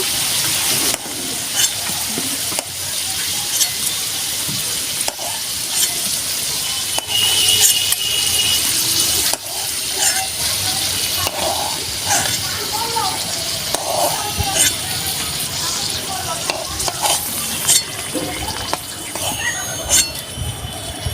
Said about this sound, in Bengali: খুব সুন্দরভাবে আমি এরকম করে দেখুন লাল লাল করে ভেজে নিয়েছি এইভাবে।